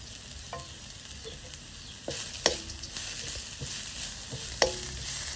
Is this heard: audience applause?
no